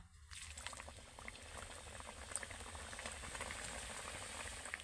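Potato samosas frying in hot oil, a steady continuous sizzle and bubbling that holds at an even, fairly loud level throughout, with no talking.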